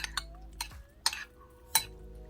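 Oysters being tossed with grated ginger juice in a bowl, a quiet close-up of a few soft wet squelches and light clinks spaced about half a second apart.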